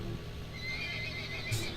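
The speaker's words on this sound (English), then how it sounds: "I can hear horses." A horse whinnies faintly in the distance in a video game, Farming Simulator 17, over a steady background hum, with a soft clopping of hooves.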